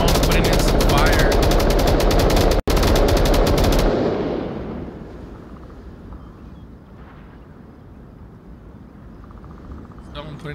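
Onward VR video game gunfire, a loud sustained burst of rapid automatic shots that cuts off abruptly, leaving quieter ambient background with voices talking.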